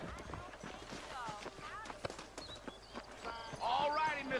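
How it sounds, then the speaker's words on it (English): Horse hooves clip-clop in an uneven trot in Red Dead Redemption beneath a voice, with game ambience and a bright whistled tone near the end. "I got the horses saddled up and ready out front."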